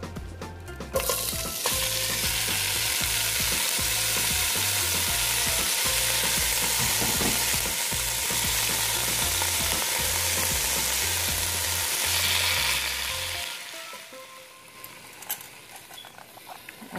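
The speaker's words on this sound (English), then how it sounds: "I'm going to cook the peppers. And the onions." Peppers and onions sizzle steadily in a hot pan with a dense crackling hiss, broken by rhythmic low thumps of stirring, before the frying fades and stops near the end.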